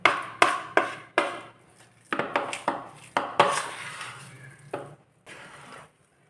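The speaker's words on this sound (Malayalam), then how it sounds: "ഇത് നന്നായിട്ട് മിക്സ് ചെയ്തെടുത്തു." Ripe banana being mixed into wheat flour in a bowl, heard as a series of sharp spoon-on-bowl knocks and scraping strokes in irregular bursts, close and fairly quiet, with brief pauses between.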